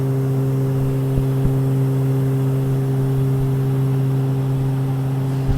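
Steady, loud, droning engine noise fills the cabin of a Sharp Airlines Fairchild Metro 23 turboprop airliner in flight, holding an even pitch throughout with no talking.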